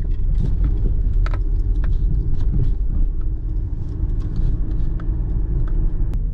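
A 2005 Kia Sportage with throttle position and idle control faults runs steadily at idle, a continuous low engine rumble with faint clicks and ticks above it, close and uninterrupted, no talking.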